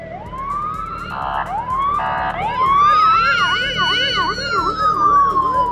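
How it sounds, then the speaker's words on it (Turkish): A police car siren on an American street climbs in a long rising wail, breaks into short yelping bursts, then settles into fast warbling sweeps, loud and drawing nearer over traffic rumble. "Bakın polis geliyor çaprazdan. Görüyor musunuz? ters yönden geliyor. Lambalarını açmış bir şekilde."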